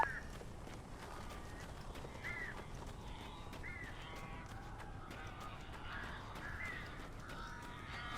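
Crows caw in Alan Wake Remastered, several harsh calls scattered over a dark, rumbling ambient backdrop, fairly faint and spread across the scene.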